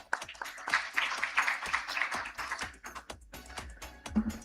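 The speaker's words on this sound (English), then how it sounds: "Please do join me in giving Atul a big," Audience applause at an out-of-home advertising conference on stage, a dense wash of clapping hands sustained for several seconds with scattered sharper claps, fairly close and steady before thinning toward the end.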